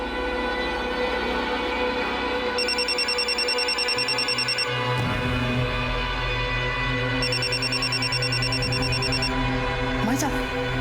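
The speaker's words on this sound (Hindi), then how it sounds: "भाभी साहब का फोन बज रहा है।" A mobile phone rings in a home during a family puja, its electronic ringtone repeating in two bursts over a steady background hum, with voices talking nearby.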